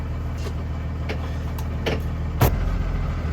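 A school bus engine strains while stuck in a muddy field, a steady low rumble with a few brief knocks and a sharper thump near the middle, no voices.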